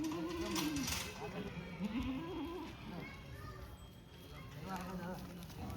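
Kathiawadi goats unloaded from a truck bleat in several wavering calls, close and fairly loud, amid people talking and general farmyard bustle.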